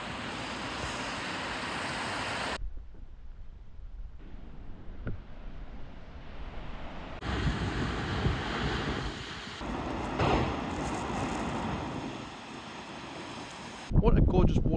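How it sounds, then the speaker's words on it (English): Brandywine Falls waterfall and creek near Whistler give a steady broadband rush of falling water, loud and continuous, cut by a quieter gap and wind buffeting on the microphone, with a sudden loud burst at the end. "What a gorgeous waterfall."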